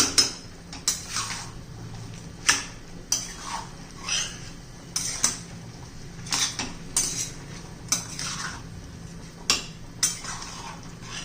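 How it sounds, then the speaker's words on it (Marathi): A spoon stirs washed rice in a pot for veg biryani, making repeated metallic clinks and scrapes against the pot in an irregular rhythm, close and fairly quiet. "आता आपला हा धुतलेला तांदूळ घालायचा आहे. व्यवस्थित मिक्स करून घेऊया."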